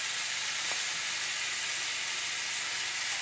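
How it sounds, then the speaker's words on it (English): Diced tomatoes go into a hot pan of chili, giving an even, continuous hiss of sizzling steam with no pauses or talk. "Now I'm going to put in my diced tomatoes"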